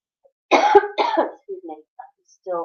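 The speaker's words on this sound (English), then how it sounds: "I'm still hanging on from like a COVID cough" A person coughs twice in quick succession, close and fairly loud, followed by softer throat sounds and a brief bit of voice.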